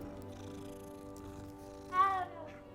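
A cat in the game Hogwarts Legacy purrs softly and steadily while being petted, then gives a short, louder meow near the end, with a faint background hum.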